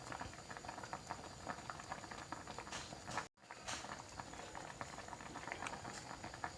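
A pot of mixed fish sour soup with one-eyed fish and termite mushrooms simmers, giving a steady bubbling patter with soft pops and ticks, close and fairly quiet, broken by a brief moment of silence midway.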